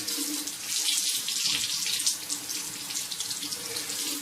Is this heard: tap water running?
yes